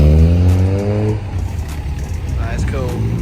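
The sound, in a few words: Hillman car driving off from a car meet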